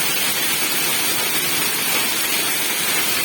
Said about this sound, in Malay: Hujan ais batu.